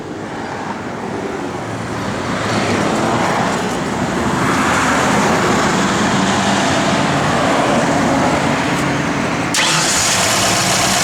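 A 1965 Ford Mustang with an Edelbrock kit, running on pump gas, cranks and starts, then settles into a loud, steady idle that stays close and unbroken.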